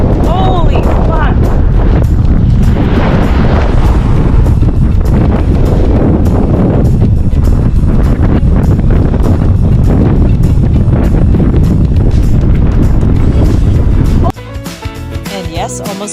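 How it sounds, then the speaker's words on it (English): Strong coastal wind on the Oregon coast between Waldport and Port Orford buffets the microphone of a cyclist on a bike, a loud, continuous roaring rumble that abruptly drops away near the end. "Yes, almost got blown off my bike."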